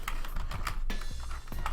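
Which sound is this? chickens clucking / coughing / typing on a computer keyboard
typing on a computer keyboard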